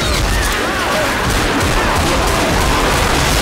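Dense, continuous gunfire and chaotic crashes from a co-op zombie shooter, Left 4 Dead, in a town level on expert difficulty, a loud unbroken barrage that fills the whole stretch.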